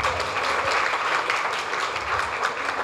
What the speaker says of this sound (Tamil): பார்க்கலாம், எப்படி கைத்தட்டல் பார்க்கலாம்.